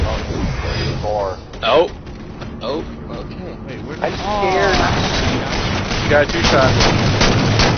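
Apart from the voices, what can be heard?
gunfire in a video game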